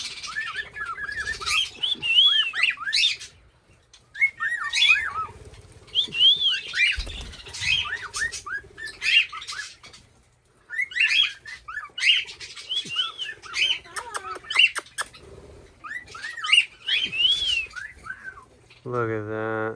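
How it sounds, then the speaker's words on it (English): Birds whistle in repeated bursts of rising and falling notes, with squawks and chirps between phrases; brief pauses separate the bouts, and one voice talks faintly. "I didn't know Scooby knows so much whistling."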